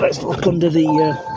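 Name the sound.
car key-in-ignition warning chime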